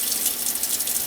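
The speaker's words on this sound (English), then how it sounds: "Now I'm going to put some cold water and milk in here." Cold water pours steadily into a vacuum bottle, a brief, soft, continuous splashing stream with no voices.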